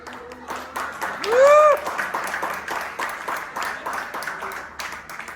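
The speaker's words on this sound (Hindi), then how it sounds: "ताली ताली ताली, जबरदस्त ताली।" Hands of an audience clap in a steady run of sharp beats at a health product demonstration, with a brief whistling tone rising above them early on and a voice speaking under the clapping.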